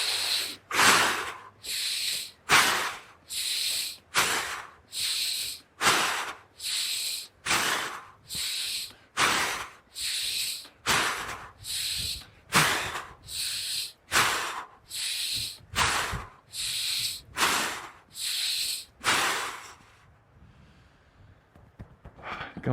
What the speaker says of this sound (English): let's soften the body. Now, about 10 breaths.